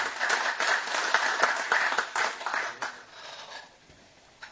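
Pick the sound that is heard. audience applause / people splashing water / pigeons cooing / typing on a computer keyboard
audience applause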